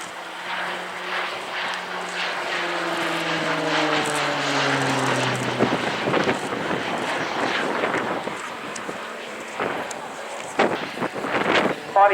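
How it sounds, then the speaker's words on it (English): A Tucano propeller aircraft climbs through an air display at RIAT Fairford, its engine droning with a falling pitch, then giving way to rushing, gusty noise as it passes. A commentator's voice is faintly mixed in. "Pilot now climbing for another half Cuban, and then he'll bring the aircraft back to the crowd centre."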